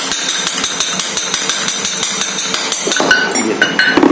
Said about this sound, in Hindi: तो मैं इसको इस तरह से धीरे धीरे ठोक लूँगा